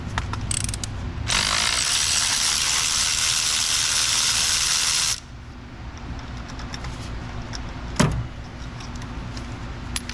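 A ratchet spins steadily for about four seconds, loosening spark plugs on a Toyota Highlander AWD's 3.3 V6, close and crisp, followed by quieter handling noises and a single sharp knock.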